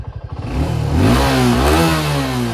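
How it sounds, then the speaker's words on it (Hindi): A Suzuki Gixxer 250 BS6 motorcycle stands still as its engine goes from a close, pulsing idle into a loud, sustained rev, with no voices. "अगर इसमें रेव करते हैं तो काफ़ी लगभग कितने में चली जाती है ये"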